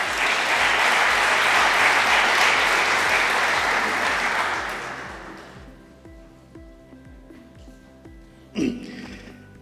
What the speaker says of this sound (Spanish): para el que pido también un fuerte aplauso